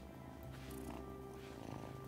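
A cat purrs in the video game Wylde Flowers, a soft, steady rumbling purr that runs the whole time, quiet and even, under gentle background game music with steady tones and no talking.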